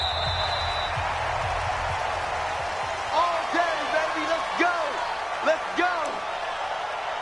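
A stadium crowd roars steadily in a video game American football match between the Chicago Bears and Buffalo Bills, with rising cheers and whoops swelling in bursts as a commentator talks over it.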